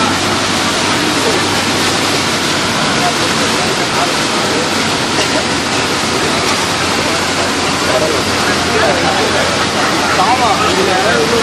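Floodwater from the Velachery floods rushes in a loud, continuous broadband roar that stays constant throughout, with voices faintly present beneath it.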